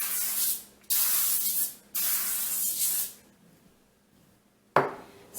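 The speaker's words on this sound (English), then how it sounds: "I'm going to spray it with my nonstick cooking spray." Nonstick cooking spray hisses onto a foil-lined baking sheet in three close, steady bursts of about a second each, with short pauses between them, then a brief clatter at the end.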